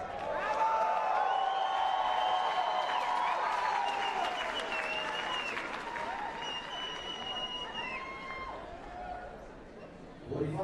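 A large audience applauds the national contestants at a Miss World pageant, with loud, dense clapping and crowd chatter, and tonal music and a voice running through it before it tapers near the end.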